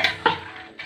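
Chickpea curry is stirred in a pot with three quick, close metallic scrapes and clinks of a spoon against the pot, separated by short pauses.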